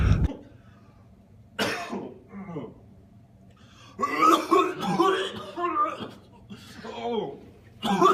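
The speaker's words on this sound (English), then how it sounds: "you're coughing up blood" A person coughs in a dramatic scene, with a harsh burst at the start and several rough coughing fits later, mixed with gasps and voices talking nearby.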